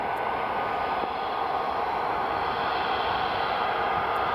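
An EasyJet Airbus A320 Neo roars steadily at an airport, a broad, even jet wash of engine noise that holds constant throughout without any voices.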